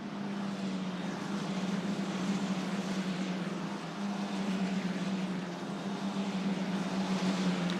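Italian F4 single-seater race cars, Abarth-powered, run up the Mistral Straight at Paul Ricard during a race, heard as a steady distant engine drone that holds level for several seconds.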